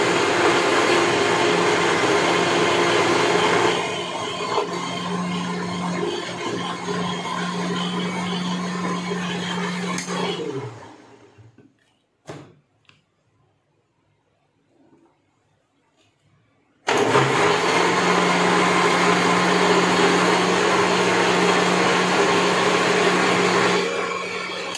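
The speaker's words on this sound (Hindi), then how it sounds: "हमें ग्राइंड करना है इसको।" Electric mixer grinder blending mixed fruit for jam, a loud steady motor whine for about ten seconds, a pause of near silence, then the motor running again at full power.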